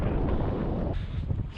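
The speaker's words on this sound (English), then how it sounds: "It's windy." Strong east wind buffets a fishing boat out on open water during a fall muskie trip, a loud, steady low rumble across the microphone with no voices.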